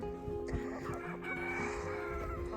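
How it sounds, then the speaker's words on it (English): A Barred Rock rooster crows loudly and close by, a long drawn-out call with hens clucking and farmyard noise underneath. "So this is my barred rock rooster."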